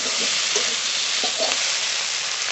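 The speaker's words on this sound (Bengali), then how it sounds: "মশলার সঙ্গে পেঁয়াজ বেগুন আলু ভালো করে ভেজে নিয়েছি" Onion, eggplant and potato frying with spices in a pan, a steady dense sizzle with a few soft stirring scrapes, close and continuous throughout.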